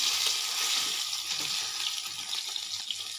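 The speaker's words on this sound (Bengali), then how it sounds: "জ্যান্ত পুকুরে ধরা সরপুঁটি মাছ, ওই মাছটাকে এইভাবে ভাজা করে নিলাম একে একে।" Live-caught sarpunti fish fry in a pan with a soft, continuous sizzle and faint crackle, fairly quiet and without voices.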